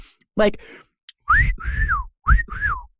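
Several bright, rising-and-falling whistles in short bursts, close and clear, after a brief squawk-like chirp at the start.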